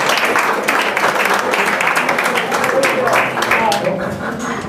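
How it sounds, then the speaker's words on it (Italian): An audience claps continuously at a book presentation, a dense sustained wash of applause from a packed room with voices mixed in. "E allora un applauso a Maurizio."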